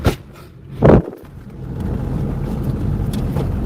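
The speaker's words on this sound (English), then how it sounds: "I'm gonna pull my truck up a little bit" A pickup truck's engine rumbles steadily up close as the truck is pulled forward a short way, with a brief louder thump near the start.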